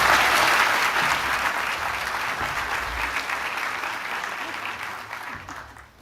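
An audience at a national summit breaks into applause to welcome a department secretary onto the stage, a steady wash of many hands clapping that slowly fades out over several seconds.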